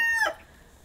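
A farm rooster gives a short, loud crow that breaks off quickly, heard close by in a quiet outdoor setting with no talk over it.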